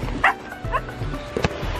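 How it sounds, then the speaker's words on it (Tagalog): A few short dog barks and yips ring out at intervals, moderately close, over outdoor background noise. "Ayan, may aso pa."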